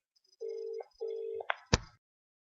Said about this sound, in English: I was just trying a phone call there.